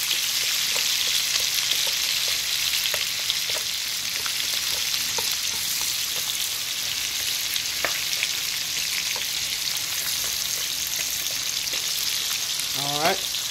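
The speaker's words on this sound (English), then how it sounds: "Keep that oil, you know, you're gonna use that to cook up the onion and flavor it" Chopped onion fries in leftover bacon grease, a loud, dense crackling sizzle that runs steadily throughout, with a brief rising voice tone near the end.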